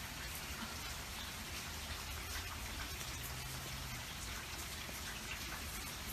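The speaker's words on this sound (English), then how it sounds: "Are you having fun in the rain?" Steady, dense rain falls and patters on surfaces, an even wash of droplet noise that continues unbroken for the whole stretch, with no voices audible.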